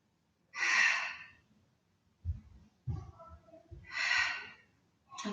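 Forceful breaths during a Pilates exercise, two long, loud, breathy exhales with quieter breathing and soft low thumps in between, close to the microphone.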